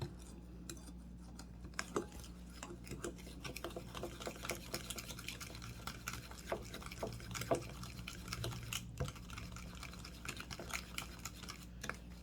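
Granulated sugar being stirred into brownie batter made with butter gives faint, gritty scraping and wet clicking strokes in an irregular rhythm, quiet and close, with no talking.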